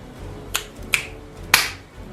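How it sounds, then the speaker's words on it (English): Three sharp, close transients in quick succession, two finger snaps followed by a brighter, louder clap, each crisp and isolated against a quiet background. "snap your fingers twice and clap once"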